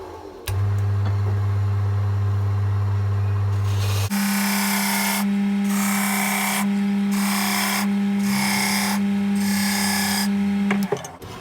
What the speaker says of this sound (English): this time we're going to bring the chisel in a little deeper. So we take a deeper pass